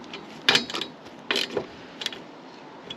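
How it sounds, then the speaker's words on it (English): Ratchet wrench clicking as bolts with big washers are tightened on a campervan solar panel mount, several short close bursts of clicks separated by pauses. "Click. I'll torque these properly later"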